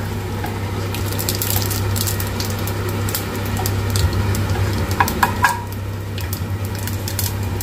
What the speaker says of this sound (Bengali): ফোড়নটা ভালো করে ফ্রাই হয়ে যাক।